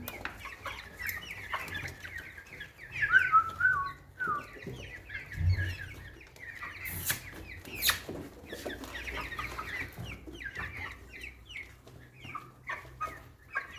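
Light Brahma chickens cluck steadily while feeding outdoors at dusk, with overlapping close and farther calls throughout and a few louder rooster-like bursts.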